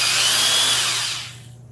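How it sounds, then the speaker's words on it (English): A Ryobi D43 corded drill with a planetary gearbox runs under load in a loud, close, high whine with grinding texture, then winds down and fades over the last half second. "Being a planetary gearbox, it does sound pretty nice under load."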